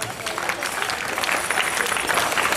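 An audience at a school celebration of the Azerbaijan Democratic Republic's 101st anniversary bursts into applause, dense continuous clapping that swells slightly and carries on evenly to the end.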